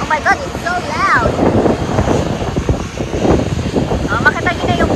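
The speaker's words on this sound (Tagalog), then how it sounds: "It was the plane, guys, about to land." A Cathay Pacific passenger plane flies low overhead about to land, a loud continuous engine roar buffeted by heavy wind noise on the microphone, with voices speaking over it.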